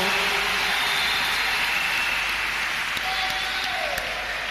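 A church congregation applauds in steady, dense clapping that fills the space throughout, with a faint tone and occasional voices underneath.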